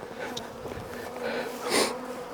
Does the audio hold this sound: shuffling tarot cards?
no